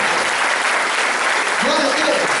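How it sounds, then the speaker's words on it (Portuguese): Church congregation applauding during a Pentecostal family festival service, dense continuous clapping that holds loud and steady from start to finish, with voices mixed in underneath. "Você pode dar uma salva de palmas?"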